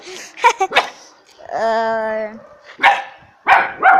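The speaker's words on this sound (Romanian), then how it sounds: "Nu, e ceva acolo, de-aia latră." A dog barks several times up close, short loud yaps, then a long drawn-out whining howl, then more sharp barks.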